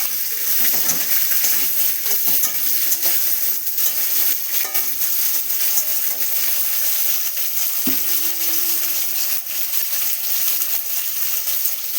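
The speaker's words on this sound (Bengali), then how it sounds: "উচ্ছেগুলোকে একটু ভালো করে ভেজে নিতে হবে" Bitter gourd pieces frying in hot oil with black cumin, a steady close sizzle with faint stirring scrapes and one sharp clink partway through, no voices.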